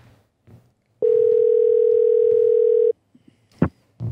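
A telephone dial tone sounds while a call is placed, one steady, clean tone lasting about two seconds, with faint clicks and handling noises before and after.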